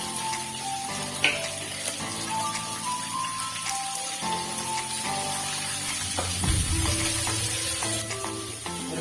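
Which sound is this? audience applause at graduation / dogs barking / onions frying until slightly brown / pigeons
onions frying until slightly brown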